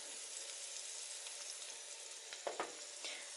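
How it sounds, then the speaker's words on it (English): Chicken sautéing and browning in a hot pan, a continuous close hiss of frying with a few brief louder pops and spatters. "while it's sauteing, it's browning up a little bit"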